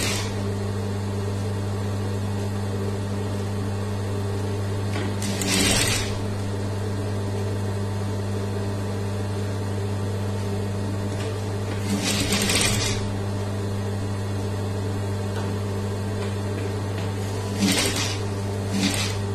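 A sewing machine stitches folded churidar neck fabric pieces in three short whirring bursts, spaced several seconds apart over a constant low electrical hum, close by and with no talking.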